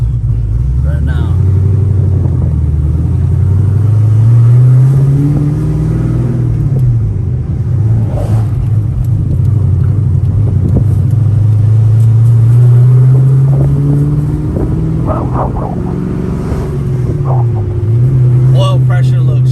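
Car with a built 416 cubic-inch stroker LS3 V8 being driven, a steady loud low engine drone that rises and falls with throttle throughout, with a person talking over it.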